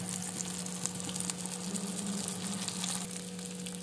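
Fish shallow frying in a pan gives a steady, close sizzle and crackle with a low hum running underneath, continuous throughout with no voices.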